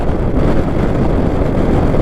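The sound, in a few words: strong wind noise while riding a Honda NC 750X motorcycle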